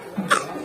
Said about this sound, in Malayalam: എരിയൊക്കെ കയറി ചുമച്ച് പാവം.